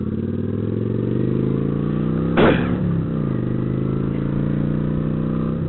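A Kawasaki Vulcan 900 Classic LT motorcycle engine rumbles loud and steady throughout, with a brief rising rev partway through.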